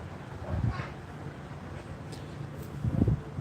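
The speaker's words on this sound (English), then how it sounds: "It is 70 degrees and windy." Wind gusts blow outdoors on a mild, overcast evening in Cleveland, a low rumbling buffet against the microphone with a few brief louder bursts near the end.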